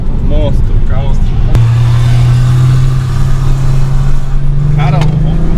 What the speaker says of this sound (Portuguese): É o famoso barulho do Magna, né, mano?